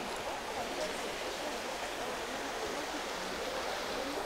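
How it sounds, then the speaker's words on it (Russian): An artificial waterfall and river in a Bali monkey forest produce a steady, even rush of falling water at moderate level, continuous throughout with no distinct events. "водопад, э, видимо, искусственный, река вся эта"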